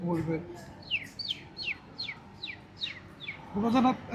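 A voice imitates a chick at a school arts festival stage, producing a quick run of about eight high, thin, falling peeps, with brief talking before and after.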